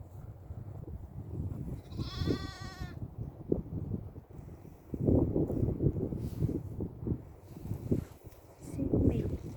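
Sheep bleat on a farm where a lamb has strayed from its mother. One clear, wavering bleat stands out over rustling and background farm noise, with faint voices nearby.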